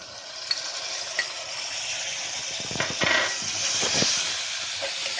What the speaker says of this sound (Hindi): अब इसमें डालेंगे टमाटर।